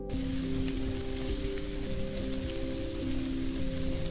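Chopped medium onion frying in mustard oil for a Bengali hilsa curry with taro (kochu mukhi), giving a steady, dense sizzle that crackles continuously throughout with no talking.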